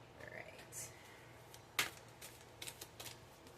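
Tarot cards are shuffled and pulled from a deck, with a sharp riffle-like snap near the middle and several lighter card flicks and slides afterward, close and fairly quiet over a low steady hum.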